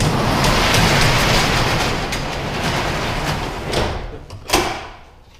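A big new door swings all the way open, giving a steady broad rumble with rattling clatter and a couple of sharp knocks near the end as it comes to a stop, with no voices.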